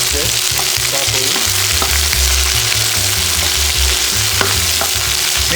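Chicken chili with green chilies and capsicum is stirred in a hot pan, with steady loud frying sizzle and repeated low scraping stirs throughout.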